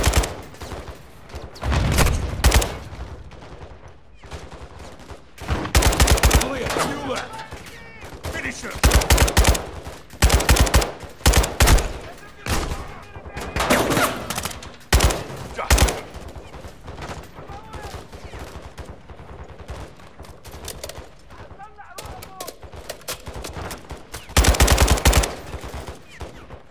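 Gunfire in Call of Duty: Modern Warfare II, repeated loud automatic bursts and single shots throughout a long firefight, with brief lulls and occasional voices.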